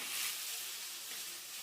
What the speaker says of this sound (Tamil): தக்காளி நல்லா சுருண்டு வர வரைக்கும் நல்லா வதக்கிக்கலாம்.